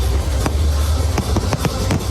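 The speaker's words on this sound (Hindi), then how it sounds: "ये इंदौर के बीजेपी विधायक गोलू शुक्ला के बेटे की शादी में हुई आतिशबाजी की तस्वीरें हैं" Fireworks at a wedding in Indore, a rapid run of sharp cracks and pops over a dense rumbling roar, loud and continuous.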